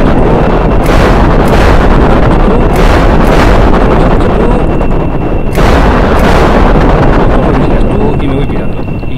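Loud, dense bursts of rapid gunfire and booming missile and bomb blasts in the game Kerbal combat, continuous and harsh with repeated sharp volleys, no talking.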